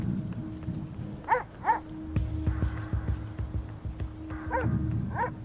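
A police dog barks in short bursts of a few sharp, moderately loud barks while searching a wet industrial estate, with a steady engine-like rumble and other activity underneath.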